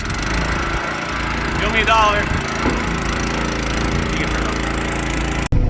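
A Honda small engine catching on the first pull and running, heard as a steady, close, rattling engine drone with a brief raspy sweep near the start and a sharp cut near the end, while a voice briefly speaks.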